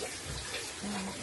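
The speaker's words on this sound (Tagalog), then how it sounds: "Ito shower lang. Shower lang. Merong shower lang." A campground shower runs with a steady, close wash of water, broadband and even for about a second, alone with no talk.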